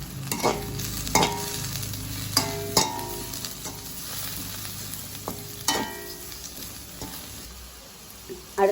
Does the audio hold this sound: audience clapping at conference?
no